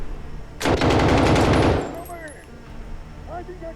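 Rapid automatic gunfire in the video game Call of Duty Modern Warfare, a loud sustained burst lasting over a second, then quieter game effects with faint chirping tones.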